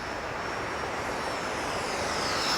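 An FMS 64mm EDF J-10 RC fighter jet flying overhead, a steady whooshing ducted-fan roar that holds at an even level for the whole stretch.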